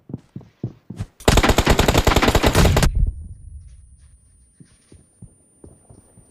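Gunfire in the Free Fire video game: a few single shots, then a loud rapid automatic burst lasting under two seconds, followed by a fading rumble and more sparse, softer shots.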